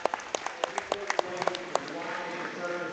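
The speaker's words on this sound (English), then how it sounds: "Let's give them a nice round of applause." Scattered clapping from spectators at a FFA market beef show in the ring at the Nebraska State Fair, with distinct individual claps up front that blur into a thinner patter and fade, while an announcer's voice carries over it.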